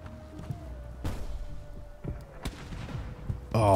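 Cannon fire at a ship during a pirate naval battle in the game Seablip, several booming shots spaced across the clip with a louder burst at the end, heard close over game ambience.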